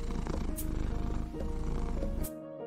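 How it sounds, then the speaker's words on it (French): A cat purring, a low, continuous rumbling drone that stays steady and close for a couple of seconds before cutting off. "Il répondit en ronronnant."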